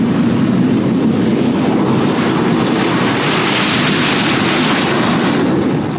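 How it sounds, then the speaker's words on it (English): Long-nosed radar version of the English Electric Canberra jet flying past, a loud sustained roaring engine rush that holds steady throughout and fades slightly at the very end, with no voices over it. "This version of the Canberra, with its extra-long nose to house radar,"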